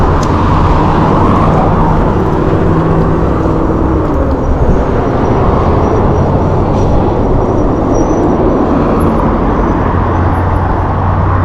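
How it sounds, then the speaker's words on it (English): A red car pulls away nearby on a road with sand about, its engine a steady low rumble under continuous traffic noise that holds loud and even throughout, with no talk. "Like this red car about to go."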